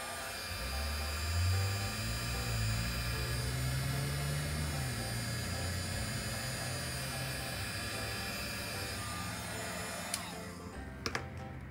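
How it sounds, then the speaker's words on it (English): A heat gun runs steadily as it heats paper embellishments, a loud, even blowing roar with a low motor drone that holds for about ten seconds, then cuts off, followed by a couple of faint clicks. "so you can see now that the heat gun has done its job"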